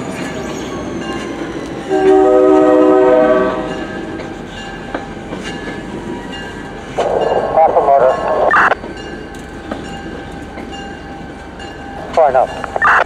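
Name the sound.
NJ Transit GP40PH-2 locomotive train passing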